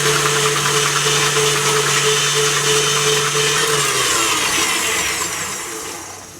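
An electric mixer whips egg whites on high speed for an angel food cake, a loud, steady whirring drone that runs continuously before the motor winds down and fades near the end.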